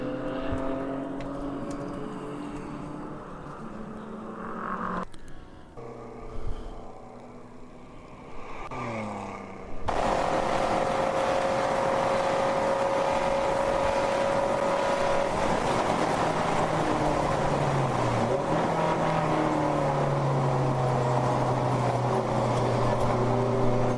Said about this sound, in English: Here comes the Floridian Motorsports Porsche 944.